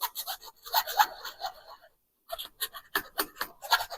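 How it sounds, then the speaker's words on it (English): Plastic Nerf blaster part being filed and sanded by hand, a run of short raspy scraping strokes, a brief pause, then more quick rubbing passes up close. "sand that down a bit. Gotta admit, this plastic does not like getting sanded well"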